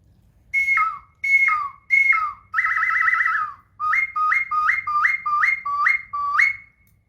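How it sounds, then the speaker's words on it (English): A series of shrill whistles from hunters' bird-call whistles, a few spaced single notes, a warbling trill, then a quick run of repeated falling whistles, loud and close. "We'll show some couple bird whistles here."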